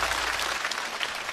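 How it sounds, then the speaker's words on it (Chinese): A brief burst of audience applause at a stand-up comedy show, steady clapping from a live crowd, fairly faint and without talk. "再次掌声送给"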